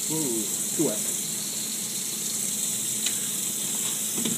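Tap water runs steadily over a frozen whole chicken as it is rinsed, a constant close gushing hiss with faint splashes and a brief voice at the start.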